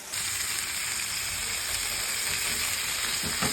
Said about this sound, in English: Cook those fillets until 125 internally, flipping and then basting it with butter.